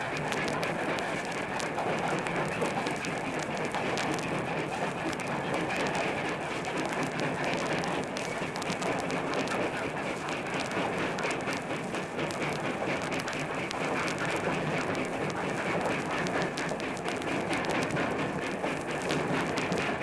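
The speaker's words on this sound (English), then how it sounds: "that familiar chug of a steam engine" Maine Central Railroad #470 steam locomotive running on its last run, a steady, continuous rushing rumble with no clear chuff beats, heard at a distance for the full length.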